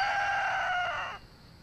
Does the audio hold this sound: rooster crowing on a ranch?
yes